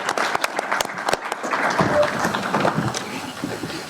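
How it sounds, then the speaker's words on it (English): An audience at a League of Women Voters candidate forum in Sugar Grove breaks into sustained applause for the candidates, dense clapping filling the room, with faint talk underneath. "let's give these candidates a round of applause"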